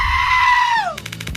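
A goat lets out one loud, close, drawn-out scream that slides downward at the end, followed by a brief rough, stuttering bleat.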